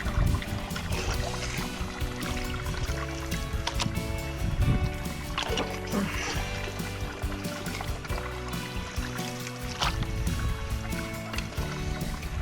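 Scooped gravel and water are poured down while prospecting and crevicing for gold in Arizona, giving a continuous close splashing, trickling and clattering wash with repeated pours and scrapes.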